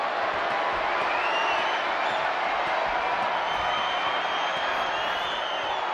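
Wrestling arena crowd in WWE 2K24 cheering in a steady, dense roar that fills the whole stretch without letup.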